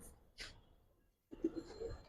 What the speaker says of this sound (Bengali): মাকড়া কবুতর